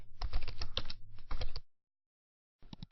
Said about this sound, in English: type your ClickBank name into it